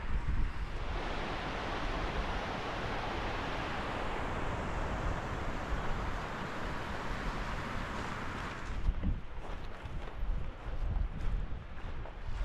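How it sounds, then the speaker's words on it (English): Steady broadband rushing of falling water from a nearby waterfall on the Cape Wrath Trail in the Scottish Highlands in April, mixed with wind buffeting the microphone; the roar eases slightly toward the end. "We've got a beautiful waterfall coming down on the left now"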